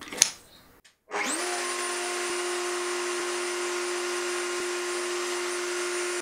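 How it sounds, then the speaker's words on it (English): A router softens the edges of wooden wine rack slats. After a brief knock, the tool spins up and holds a steady, loud whine that stays close and constant to the end. "But before I install the slats into the frame, I'm softening the edges using my router."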